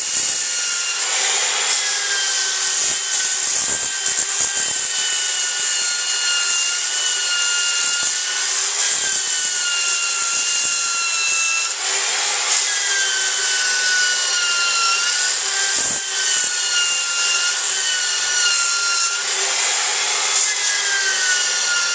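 40-grit abrasive grinds an old, rough metal surface in a garage to prep it for welding, giving a loud, continuous high whine and rasp with brief dips in pressure, with no voices.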